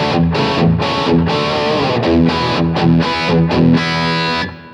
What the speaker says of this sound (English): If I start to creep up the gain, I really do get some good distortion here.